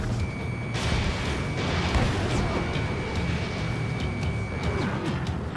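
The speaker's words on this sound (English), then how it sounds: "Mage 2, missile away" A missile launch in Ace Combat 7, a dense rushing roar of jet and rocket noise that holds steady throughout, with a thin warning tone and faint radio voices over it.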